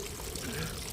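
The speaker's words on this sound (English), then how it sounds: "Water pouring out there, trenches full of water." Steady broadband rush of rainwater pouring and splashing into full trenches, fairly loud and continuous, with no pauses.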